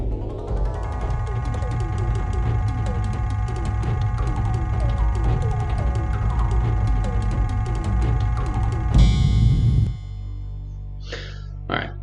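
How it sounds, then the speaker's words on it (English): A rotating spindle mechanism in the adventure video game Indiana Jones and the Fate of Atlantis, giving a busy run of ratcheting, clicking gear sounds over a low rumble, then a brief louder rush before it cuts to quieter chimes. "So we're going to rotate this once and hit the spindle"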